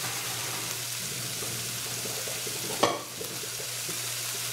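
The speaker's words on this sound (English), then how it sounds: "my pasta is done, so I'm going to go ahead and drain that real quick" Cooked pasta being drained: a steady rushing hiss of water pouring out runs throughout over a low hum, with one sharp clack near the end.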